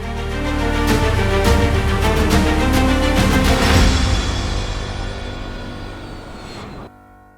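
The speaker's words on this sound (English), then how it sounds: "Will the plane manage to land on the runway this time?" A passenger jet airliner approaching a runway to land roars loudly and steadily, swelling and then fading over several seconds before abruptly cutting out; no one speaks.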